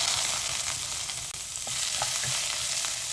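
Ginger sautéing in oil in a wok, a steady close sizzle with occasional stirring scrapes, no voices.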